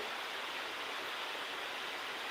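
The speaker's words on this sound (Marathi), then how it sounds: "आमच्याकडं तर भरपूर पाऊस चालू आहे जोरदार पाऊस चालू आहे" Heavy monsoon rain pours outside in a steady, dense hiss that stays continuous and even throughout, with no voices over it.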